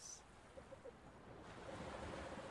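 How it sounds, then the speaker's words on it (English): Ocean waves wash in the video game Anodyne 2, a steady hissing surf that swells gradually louder, with a faint repeating soft tone underneath. "from the silence, the crashing of waves"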